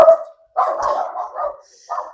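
Pet dogs barking indoors in a home kitchen, with a few loud, close barks and yips in separate bursts and quiet gaps between them.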